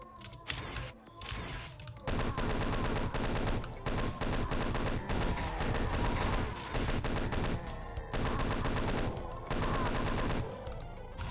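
Chaingunner enemies in Doom 2 fire long, loud, continuous bursts of rapid gunfire, broken by brief pauses, with several guns overlapping into a dense barrage.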